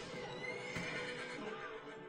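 A horse neighs in a scene from the anime Vinland Saga, a single whinny heard over a busy background of battle noise and hoof clatter.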